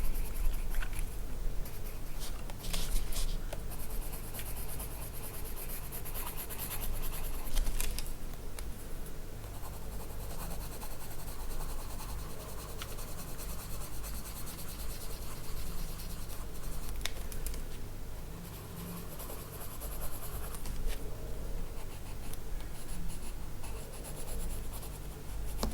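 A goldenrod colored pencil scratches steadily across paper in a colouring book, with a continuous close, dry rubbing and short pauses between strokes.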